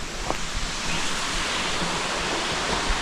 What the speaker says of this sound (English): You can still hear the waterfalls.